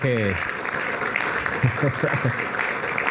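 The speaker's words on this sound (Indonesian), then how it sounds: "Kita berikan tepuk tangan dulu." Steady applause from a television studio audience fills the clip, with a voice briefly audible near the start and some talk mixed in underneath.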